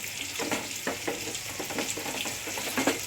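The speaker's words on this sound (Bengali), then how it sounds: "সুন্দর পটলগুলো ভাজছি" Pointed gourd pieces frying in a pan, a steady moderate sizzle broken by repeated spatula scrapes and stirring knocks at a loose rhythm, with no talking.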